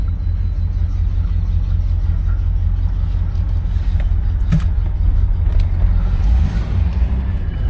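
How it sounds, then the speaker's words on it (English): A 1968 Oldsmobile 98 engine hums steadily while driving, with constant low road rumble and a few faint clicks and rattles inside the cabin. "Motor sounds good. A little peppy."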